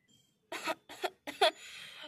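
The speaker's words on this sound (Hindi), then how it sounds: "मुझे तो खांसी आ गई है" Three short coughs in a row, close but fairly soft, the last trailing into a breathy exhale.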